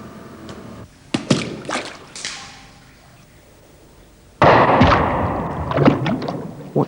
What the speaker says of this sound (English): When the weight was dropped in the tank